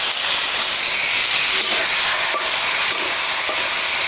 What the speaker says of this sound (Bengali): শুরুতে আলু ভেজে নিচ্ছি